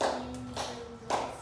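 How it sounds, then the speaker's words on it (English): A child claps out the syllables of a word in a classroom, giving three sharp claps spaced about half a second apart, close and fairly loud, with no talking. "Who can clap out this word?"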